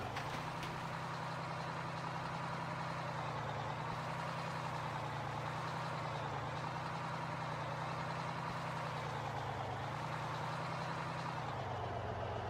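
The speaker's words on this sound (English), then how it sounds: "Let's try with the big truck here." A big truck idles in Farming Simulator 15, a steady, loud low engine drone running without a break under faint game ambience.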